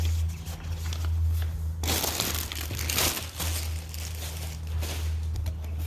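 Packaging crinkles and crushes continuously while a boxed Sparco steering wheel is unwrapped, loud and close, with a steady low hum underneath and no talking.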